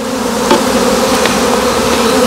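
Overwintered honeybees on six frames being moved into a hive, a dense and loud continuous buzz close up, steady throughout, with a couple of louder passes and no talking.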